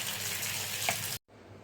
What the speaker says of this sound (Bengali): এই যে কাঁঠালগুলো হচ্ছে ভালো করে ধুয়ে নিলাম।